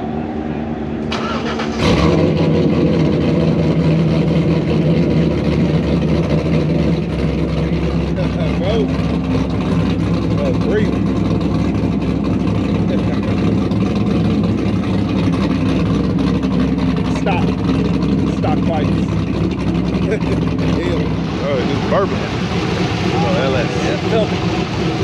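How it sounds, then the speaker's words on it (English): A car at a cars-and-coffee show starts up with a sharp burst, then its engine idles with a deep, steady exhaust rumble close by for the rest of the recording, while people talk nearby. "Hear all this motor work"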